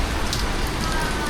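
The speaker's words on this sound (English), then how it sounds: "It's raining, but we got a little reprieve of the rain." Steady rain pours onto a hard surface outdoors during a motorcycle ride, a dense, even hiss with scattered drop patter throughout and no break.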